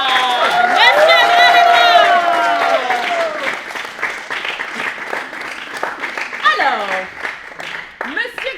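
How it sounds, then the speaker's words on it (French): A studio audience at a French TV quiz show applauds and cheers a contestant, loud and sustained, with a bright tonal jingle over the opening seconds and voices rising through the clapping near the end. "un tonnerre d'applaudissements pour Monsieur Gramédouard"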